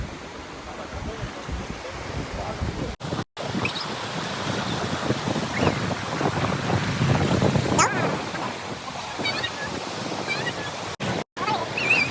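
A boat moving across the sea, with a continuous rush of water and wind buffeting the microphone, heard close, with brief dropouts and some voices in the background.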